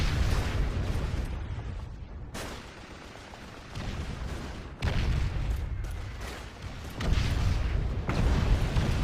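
Heavy Navy gun shelling in Call of Duty 2, a World War II setting, with repeated booming blasts and explosions arriving every second or two over a constant roar of battle.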